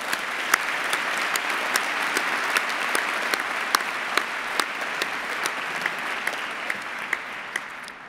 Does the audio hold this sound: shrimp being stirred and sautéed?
no